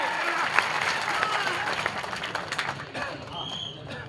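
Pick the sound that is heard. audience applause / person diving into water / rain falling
audience applause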